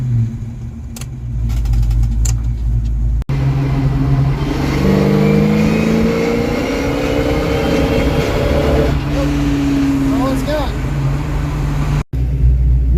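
The engine of a Ford Mustang with a charging fault drones loudly from inside the car as it is driven under throttle. The pitch rises and falls with acceleration, and voices talk over it.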